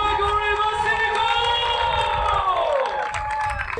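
A crowd applauds and cheers for the newly crowned Spartan Ultra World Champion at the 2026 championships, steady clapping and scattered whoops, with a voice mixed in.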